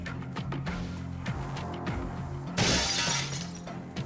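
Glass smashing in the turn-based tactical game Urban Strife: a loud, bright shatter bursts out near the middle and decays over a second or two, set against steady low game music.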